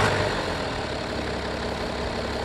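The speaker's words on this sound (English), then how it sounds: "The way they were able to actually hide the sound of that diesel engine" A steady, low diesel engine idle from a 2020 BMW 640d Gran Coupe M Sport hums continuously at close range, even and unchanging, with no voices.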